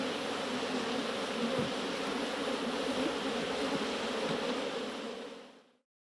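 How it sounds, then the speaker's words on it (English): Bees buzz steadily around flowering canola, a dense, continuous drone close by that holds at even loudness before fading out at the end. "Bees are essential for the pollination of canola, as well as many other crops."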